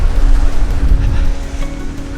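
Strong wind buffets the microphone on a beach while waves surge in the background, a loud, rumbling, continuous roar with gusty swells and no clear pauses.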